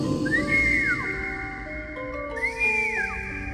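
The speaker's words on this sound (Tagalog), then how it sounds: "Wari, sumisipol." Two long rising-and-falling whistled tones, clear and fairly close, separated by a pause over a low background hum.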